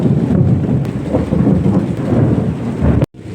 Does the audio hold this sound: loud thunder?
yes